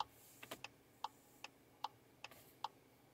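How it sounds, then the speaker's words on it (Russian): Turn indicator relay of a Skoda Octavia liftback with a 1.4 turbo and automatic gearbox ticking steadily, about seven crisp clicks in a regular rhythm, close and quiet in a still cabin. "Указатели поворотов — левый и правый."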